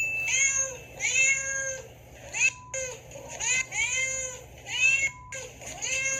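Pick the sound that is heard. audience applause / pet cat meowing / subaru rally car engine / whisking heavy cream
pet cat meowing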